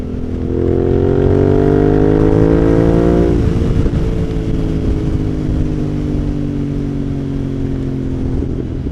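A motorcycle with about 1,500 miles and a tinted aftermarket screen runs steadily and close by. Its engine note holds a continuous droning hum, then drops in pitch and settles into a lower, even running tone.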